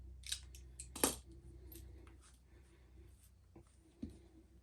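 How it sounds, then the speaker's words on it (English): A sharp knife barely cuts through the outer insulation of a wire cable from a Thunder NOVA 35/80 laser's chiller setup, making a few faint, close snipping and scraping clicks with quiet pauses between. "I'm going to use a sharp knife. And all I'm doing is just barely cutting through"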